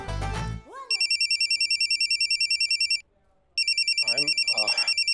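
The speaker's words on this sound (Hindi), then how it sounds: "बीच में फोन बजा" A telephone rings loudly in repeated electronic trill bursts, pausing briefly before resuming, with a short voice at the start and faint voices under the final rings.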